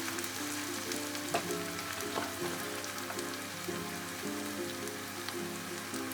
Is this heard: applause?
no